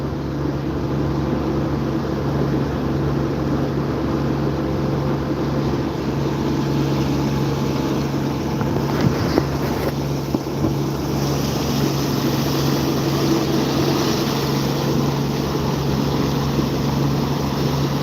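Motorboat running steadily offshore on the Pacific Ocean, 55 miles off the Oregon coast, a loud continuous engine drone with wind and water rush, unbroken throughout.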